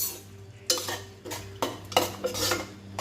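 Chicken curry with masala in a Chettinad-style kuzhambu pot being stirred, several distinct scrapes and clatters of a metal spoon against the vessel in short bursts, close and fairly loud, with no talk.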